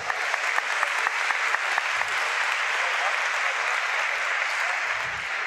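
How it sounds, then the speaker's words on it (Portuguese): Steady, dense applause from a conference audience for a man named Manuel, continuous clapping throughout with a few sharper claps near the start and a low murmur of voices underneath. "Palmas para o Manuel, gente."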